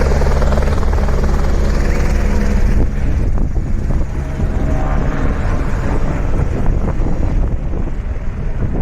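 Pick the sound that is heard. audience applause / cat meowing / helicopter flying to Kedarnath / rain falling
helicopter flying to Kedarnath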